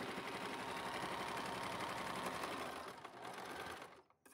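Sewing machine stitching the side seam of a long dress, running steady and close in a fast continuous whir with a rapid needle rhythm, slowing and stopping near the end, no talking.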